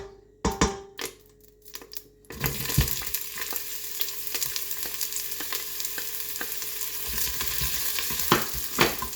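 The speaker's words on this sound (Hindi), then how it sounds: "प्याज को थोड़ा सा फ्राई करना है, ज़्यादा ब्राउन नहीं करना।" Chopped onion dropped into hot oil in a pot, with a few sharp knocks first, then a sudden loud sizzle that keeps crackling steadily under occasional stirring clatter.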